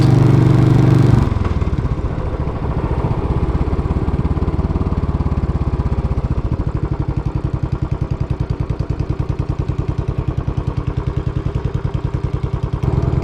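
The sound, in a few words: Royal Enfield Bullet 500 motorcycle engine running while riding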